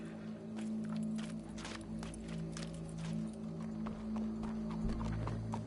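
Horse hooves clip-clopping steadily closer in the open-world western game Red Dead Redemption 2, a continuous walking rhythm over a low ambient hum with no talk.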